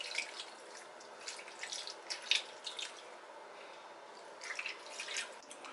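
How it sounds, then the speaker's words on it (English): Faint splashing and trickling of water being poured, with soft bursts of liquid sound against a quiet background. "Add a little bit of water to it."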